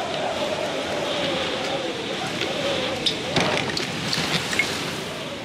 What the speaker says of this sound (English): Like, that's rain.